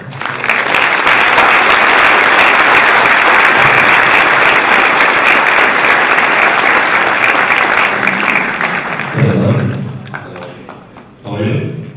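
A conference crowd at a tech event gives loud, dense applause for about nine seconds as a guest comes on stage, then it fades and voices talk at the end.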